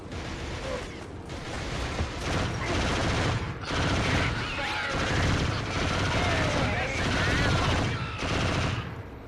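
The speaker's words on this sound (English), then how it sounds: "Seriously, why make these guns so ass with their shooting?" Automatic weapons in a Sony first-person shooter fire in dense, sustained bursts, rattling and booming almost without pause, with brief gaps between volleys and faint talk underneath.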